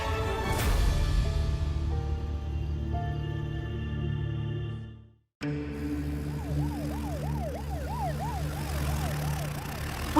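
A police car siren wails in a steady up-and-down rhythm, loud and close. A short silence breaks it partway through, and dramatic music plays before the break, with no talk.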